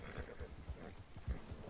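Hoofbeats of a horse running uphill on a mountain in Red Dead Online, a quick uneven rhythm of soft thuds, faint and close, with no talk over it.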